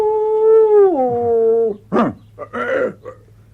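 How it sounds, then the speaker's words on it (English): A wolf howls in a radio drama sound effect, a long, loud, sustained tone that bends downward and trails off, followed by short yelping cries and a brief startled exclamation from a voice. "It was a wolf."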